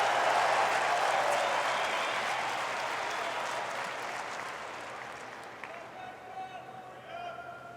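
A tennis crowd at a 2021 US Open third-round match between Petra Kvitova and Maria Sakkari, loud applause and cheering that slowly fades, with commentators talking under the tail.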